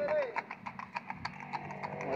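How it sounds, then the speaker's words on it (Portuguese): A horse-drawn carriage passes nearby at a rural fishing spot, its hooves clip-clopping in a steady even rhythm while someone talks over it. "Esse charrete, ó, passando aqui, ó,"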